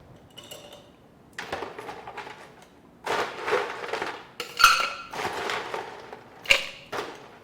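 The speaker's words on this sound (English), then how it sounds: "I'm going to add some ice into my mixing tin" Ice dropped into a metal cocktail mixing tin, a few separate bursts of rattling clatter and sharp clinks with short pauses between, fairly close and moderately loud.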